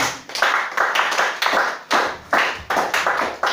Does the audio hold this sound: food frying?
no